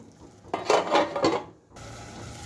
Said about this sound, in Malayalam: അപ്പം നമുക്ക് മൂടി തുറന്ന് നോക്കാം.